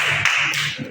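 Children in a classroom clap together in a brief, dense burst of overlapping hand claps, close and steady for about a second.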